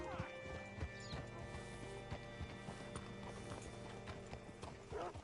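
A horse's hooves clip-clop at a steady walking rhythm in a western video game, close and clear over low background music, with mechanical clicks and a brief whinny.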